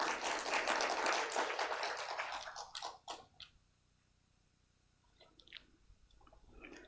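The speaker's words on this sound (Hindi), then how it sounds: "आइए अब जोरदार तालियों से इस अभियान की शुरुआत करते हैं" Applause opening a World Cancer Day awareness campaign program, a burst of clapping from an audience that fades out after about three seconds, followed by quiet with a few faint sounds.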